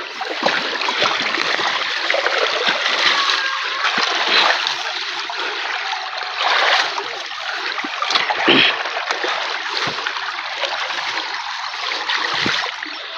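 Irrigation water from a canal or tube well rushes loudly and steadily into a crop field, a continuous close splashing, churning flow throughout.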